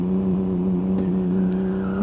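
A BMW M2 Competition engine holds a steady, loud droning note while launching against the held e-brake, then the revs swell upward near the end; no talking.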